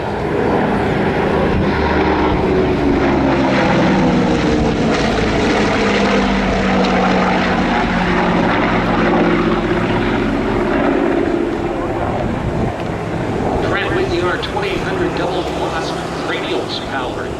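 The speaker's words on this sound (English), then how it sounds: "we've been letting you listen to these gorgeous engines as they roar on by" Loud, steady roar of propeller aircraft engines passing nearby at the Oshkosh airshow, a deep droning hum that shifts slightly in pitch as it goes by.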